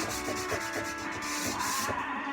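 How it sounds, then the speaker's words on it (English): Wood is sanded by hand with 120-grit sandpaper, giving a steady, close, rhythmic scratching of repeated back-and-forth strokes at roughly three per second, with no other sound. "The sandpaper I'm using is a 120. It's reasonably aggressive."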